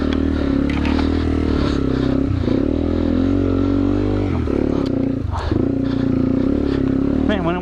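A 2009 Yamaha TW200 dirt bike ridden through mud, its engine droning loud and steady close by with small dips in revs, while a rider talks over it.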